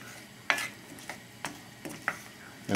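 Vegetables sweating in a pan over a gas flame for a fish and seafood stew, with a low steady sizzle and several quick scraping stirs against the pan.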